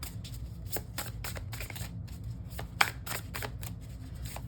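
Tarot cards shuffled close up for one more draw, a steady run of quick riffling flicks and soft slaps over a low background hum, with no talking.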